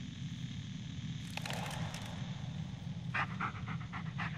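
A dog pants in the video game Blair Witch in two quick, rhythmic bursts of short breaths, fairly faint over a steady low ambient hum.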